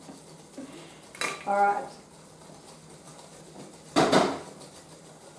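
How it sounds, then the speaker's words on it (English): A carrot cake mixture is whisked in a dish, giving two short clattering bursts of metal against the bowl, one early and one later, with a brief spoken word between them. "into here, into your dish, and I'll just whisk it"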